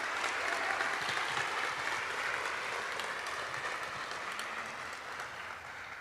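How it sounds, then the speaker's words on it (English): A school awards-ceremony audience applauds steadily, a dense wash of clapping that holds for several seconds and fades slightly toward the end, with no talk. "Let's have another round of applause for these 5 Heart of the Panther representatives."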